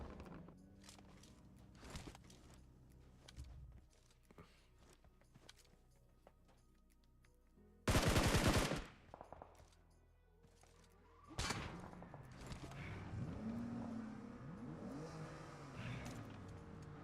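Video game battle sounds: scattered distant gunshot cracks, one loud dense burst of gunfire near the middle, then vehicle engine rumble and shifting ambient noise.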